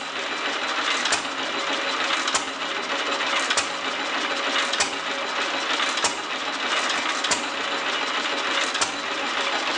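A 1929 Fairbanks Morse Z engine running, its intake giving a steady, fast rhythmic chuffing and clatter with regular louder knocks, close up and continuous without talk.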